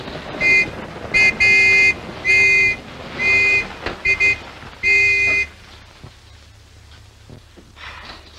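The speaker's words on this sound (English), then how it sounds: "Hey, sounds like another car." A car horn honks repeatedly, fairly loud and close, in a series of short and longer blasts over a low engine rumble, then gives way to quieter road noise.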